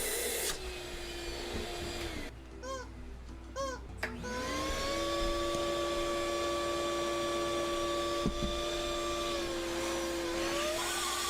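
A vacuum cleaner runs indoors with a steady droning hum and a whining tone that rises as the motor spins up, with a brief rattling interruption before the tone settles into a continuous roar.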